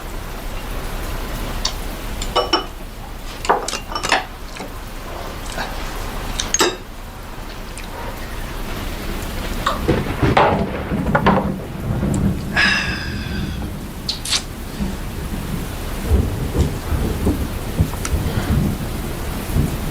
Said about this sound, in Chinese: 这雨越下越大了